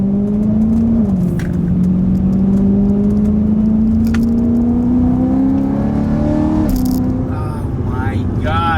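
A BMW E92 M3 V8 engine rumbles and climbs in pitch as it accelerates steadily, a low droning roar close by, with a brief shift partway through.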